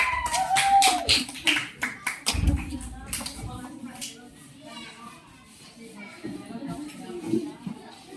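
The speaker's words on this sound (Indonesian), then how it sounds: "beri tepuk tangan kelompok 3" A school class claps for group 3 at a brief burst of loud, close claps in the opening seconds, which soon fades under classroom chatter and shuffling as a student begins speaking.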